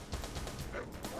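Attack dogs barking in the real-time strategy game Command & Conquer Remastered, several quick yipping barks in a rapid irregular burst amid battle noise.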